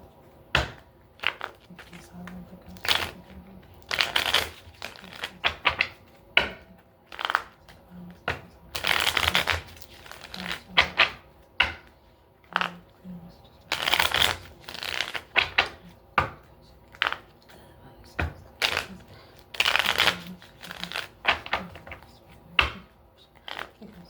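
Tarot cards shuffled by hand in repeated riffling bursts, close and crisp, with short pauses and soft handling sounds between each shuffle.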